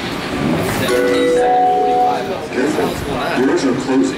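The Plane Train people mover at Hartsfield-Jackson Atlanta International Airport runs with a steady rumble and a brief tonal whine or chime, while people talk throughout.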